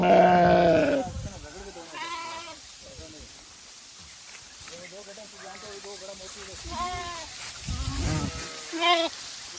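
A large flock of sheep and goats bleating in a Chhattisgarh pasture, herded by Rajasthani shepherds, with repeated overlapping bleats near and far and a loud burst at the start, under occasional talk.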